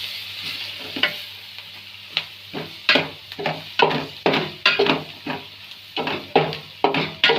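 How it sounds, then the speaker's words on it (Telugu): Masala filling for curry puffs, mixed with mutton and chicken masala, frying in a pan while being stirred, giving steady sizzling with a regular rhythm of close scraping strokes. "అవన్నీ ఫ్రై అయిపోయినట్టు ఉన్నాయి ఫ్రెండ్స్"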